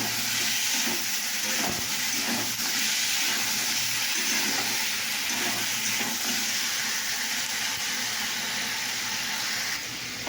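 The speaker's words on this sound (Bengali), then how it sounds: "আলু কষা হচ্ছে।" Potatoes being sautéed (kasha) in a pan give off a steady, loud sizzling hiss that runs unbroken for about ten seconds, with no voices.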